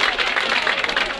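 Nightclub audience at the Playboy Club applauding the Kirby Stone Four, a brief, loud burst of dense clapping from a close crowd.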